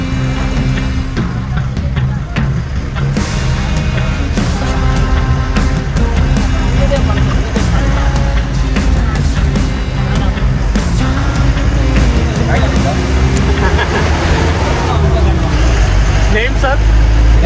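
Safari bus driving through Bannerghatta National Park near Bangalore, its engine droning steadily and loudly throughout, while people talk over it inside the crowded vehicle.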